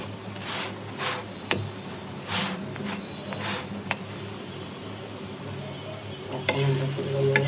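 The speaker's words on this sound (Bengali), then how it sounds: "যে খুব সুন্দর করে মশমশা করে ভাজছি" Paratha crisping in a hot frying pan gives a steady, close sizzle, broken by several short bursts of scraping and turning noise, with no voices over it.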